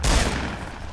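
Burst of rapid gunfire from a Fortnite match, a loud dense volley of shots packed into about one second with no talk over it.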